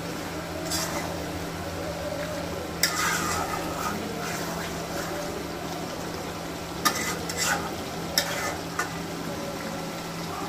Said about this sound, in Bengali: আমি আরো 3 মিনিট ভালোভাবে কষিয়ে নিব।